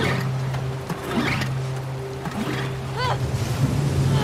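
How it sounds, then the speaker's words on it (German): A boat motor hums steadily in The Last of Us Part 2 among lapping waves and water, then falters with brief chirps. A voice talks faintly over it. "Jetzt geht der Motor wieder aus."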